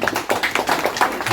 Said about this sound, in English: Will you give him a round of applause, please, Mike?